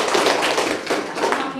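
Students clapping together in a school classroom during a mathematics lesson, a dense patter of hand claps that swells in bursts and fades over under two seconds, with voices mixed in.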